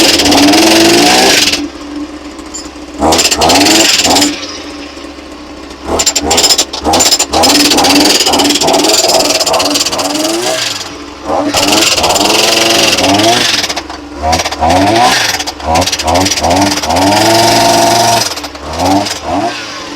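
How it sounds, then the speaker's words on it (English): An old jackhammer runs at a hand-dug well site, hammering in loud rapid bursts that stop and restart over an engine drone, with brief pauses between runs. "We got this right here. This old jackhammer. Old reliable."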